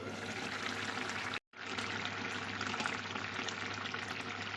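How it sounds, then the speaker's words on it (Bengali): Fish-head curry simmers and bubbles in gravy in a pot, a steady, close, broadband bubbling that runs throughout with one brief drop-out near the start. "মুড়োগুলো একটু ফুটে যাক ঝোলের মধ্যে"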